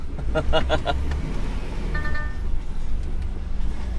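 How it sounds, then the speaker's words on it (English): A vehicle rumbles past close by, a low engine drone filling the scene with road noise throughout. "Oh, another car."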